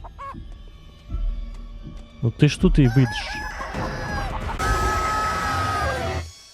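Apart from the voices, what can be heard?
chicken clucking in a horror video game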